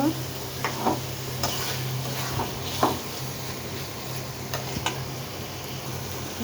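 Dried fish curry being stirred in a pan on the stove: soft scraping strokes and occasional ticks over a continuous gentle sizzle, close and moderately quiet.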